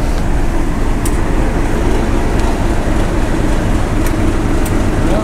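A West Coast Railways train at Carnforth station gives a loud, close, steady rumble with a faint rhythmic clatter of rolling carriages, heard alone without voices.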